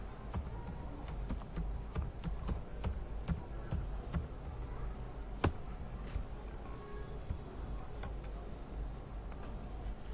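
Steady typing on a computer keyboard in an office setting, a continuous run of light, quick key clicks with an occasional louder tap, fairly close and alone with no talking.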